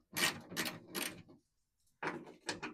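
A wrench loosens 7/16 bolts on a 1973-79 Ford Dentside truck door, giving close, crisp ratcheting clicks in two bursts with a short pause between them.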